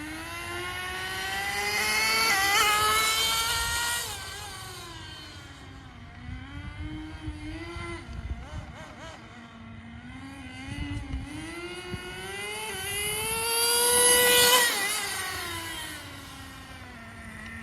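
A HotBodies Tornado RC car engine on a test run gives a high, buzzing whine that revs up and down repeatedly, swelling loud near the start and again toward the end, with no voices.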